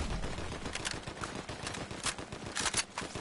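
Fortnite gunfire crackles in rapid, uneven bursts of sharp shots throughout, fairly close and dense, with no pause between volleys.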